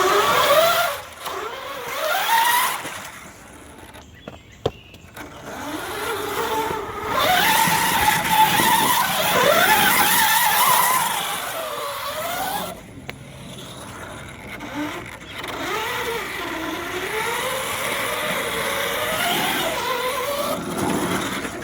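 A Redcat Ground Pounder brushless RC mud crawler drives around a backyard mud track, its electric motor whining loudly and rising and falling in pitch as it speeds up and slows down, with brief pauses between runs.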